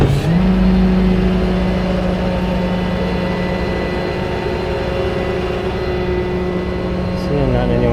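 A donated vehicle's engine idles steadily and loudly up close, with a sustained hum and a slight shift in pitch near the end.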